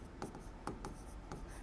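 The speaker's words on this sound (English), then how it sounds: "By then I'll write the second step." Writing on a board during a biology lecture: quiet, separate taps and short strokes of the marker, several in under two seconds, with no talking.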